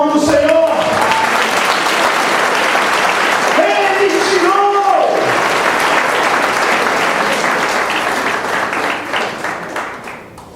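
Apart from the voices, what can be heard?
congregation applauding in church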